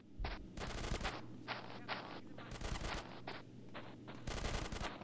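Bursts of automatic gunfire in a GTA San Andreas shootout, rapid repeated volleys with short pauses, loud and close, a low engine-like drone underneath and faint voices mixed in.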